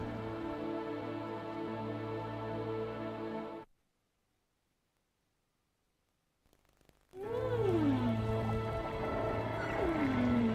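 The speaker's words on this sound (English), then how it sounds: "This is the legendary call of the humpback whale, a siren song" A humpback whale sings deep in the ocean with a steady droning moan, then a pause of near silence, followed by sweeping rising and falling calls over a low hum, moderately loud and free of talk.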